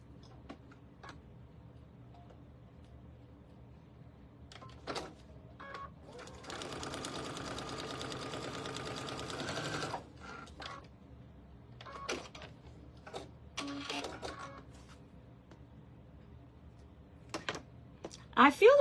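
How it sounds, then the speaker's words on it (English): A sewing machine runs a seam line in a home sewing room, one steady burst of stitching lasting a few seconds, moderately loud and close, between softer clicks and handling sounds. "I'm going to sew my seam line."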